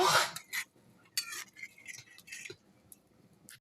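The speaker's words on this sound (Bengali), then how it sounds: "কড়াইটা ধুয়ে বসাই দিচ্ছি" A wok being washed and set on the stove, with sharp metallic clanks and scraping knocks in short bursts separated by quiet gaps, close and fairly faint.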